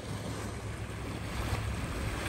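Hot spring water boiling in Yellowstone National Park, a dense, continuous rushing and bubbling roar that stays loud and close throughout, with no voices over it.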